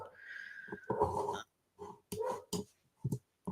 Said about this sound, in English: Someone's got a loud doggy.